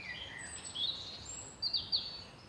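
Faint birdsong in a park on an April day: a few thin high whistles and short chirps drift in from a distance over a soft outdoor hiss, with no voices.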